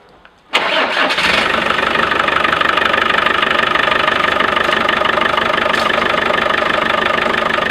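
A Land Rover Discovery engine, freshly fitted with an Odyssey battery, cranks briefly and catches, then settles into a steady, loud idle that runs without a break to the end, with no voices.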